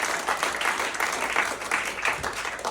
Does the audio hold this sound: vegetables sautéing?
no